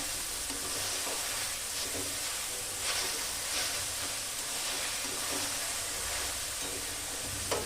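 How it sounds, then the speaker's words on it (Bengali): Grated carrot frying in ghee is stirred and turned over, giving a constant loud hiss and sizzle with faint scraping strokes underneath and no voices. "প্রায় 10-12 মিনিট মতো হওয়ার পর আমি আবারও নেড়ে দিচ্ছি উপর নিচ করে ভালো করে।"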